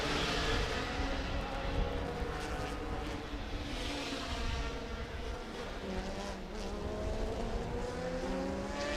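Vintage prototype race cars circling the Laguna Seca circuit, engines droning and wailing continuously at a distance, with shifting pitch as they pass, no voices over the roar.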